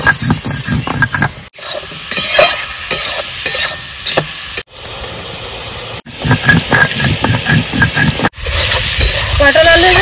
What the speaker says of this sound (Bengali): পটল আলু সুন্দর করে ভেজে নিয়েছি আমি